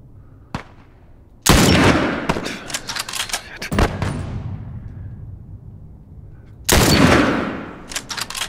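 Gunfire in The Last of Us Remastered: a sharp single shot early, then two loud bursts of shots, each followed by a decaying echo, separated by quieter ambient game sound.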